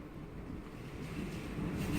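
Typhoon Jebi's strong wind in Kansai, Japan, blows as a low, steady, rushing roar that swells slightly toward the end, heard alone without any voices.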